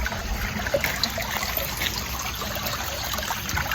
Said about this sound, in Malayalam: ഈ കുഞ്ഞു തോടിലൂടെ ഒഴുകുന്ന വെള്ളത്തിന്റെ സൗണ്ടാണ് കേൾക്കുന്നത്.